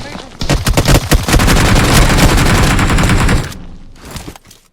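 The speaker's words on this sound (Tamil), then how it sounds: "குனிஞ்சு சுட்டு வர பாத்தியா" Automatic gunfire in a battle royale video game crackles in a dense, loud, rapid burst lasting a few seconds, then cuts off, with a voice briefly audible around it.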